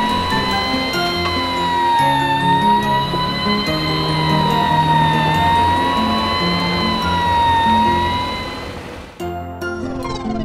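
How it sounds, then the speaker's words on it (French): A fire truck siren wails in a steady, rising and falling tone, loud and close, holding for about nine seconds before cutting off into a brief burst of other noise. "Camion de pompiers."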